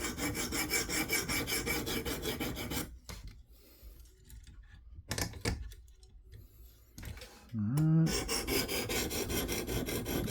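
Blade of a Knafs Lander 4 knife rasping across a coarse 100-to-140 grit stone on a KME guided sharpener, steady repeated scraping strokes up close, broken by a quieter pause in the middle before the grinding resumes.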